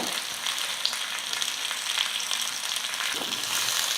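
Vegetables frying in oil in a pan for a South Indian varuval dry fry, a continuous close hissing sizzle with faint crackles throughout, no talk.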